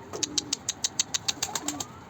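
A young Mardin tumbler pigeon beats its wings in a coop, a rapid, even series of about a dozen sharp claps, close and loud.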